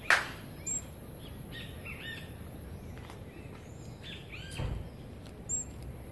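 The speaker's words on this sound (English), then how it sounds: "That is a baby hummingbird." Baby hummingbirds in Costa Rica give thin, high chirps and short tweets, scattered and faint against a soft outdoor background hiss.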